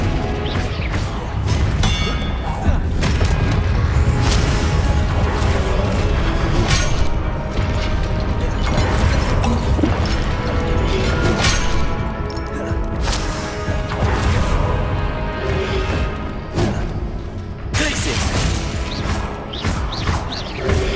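Repeated Confringo and Expelliarmus spell blasts in the Hogwarts Legacy video game, dense crashing impacts and thuds over continuous loud game soundscape for about twenty seconds.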